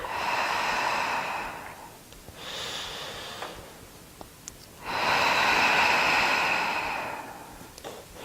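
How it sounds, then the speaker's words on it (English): Slow deep belly breaths in yoga practice, three long airy exhalations and inhalations with quiet pauses between, close and soft with no talking. "Exhaling, belly moves in. Inhaling, it moves out."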